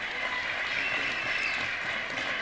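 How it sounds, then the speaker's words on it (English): A crowd at a high school basketball game in a gym gives a steady round of applause, dense clapping that holds evenly throughout with no voices standing out. "So let's give a round of applause for Caitlin Amadio."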